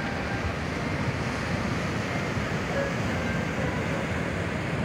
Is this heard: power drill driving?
no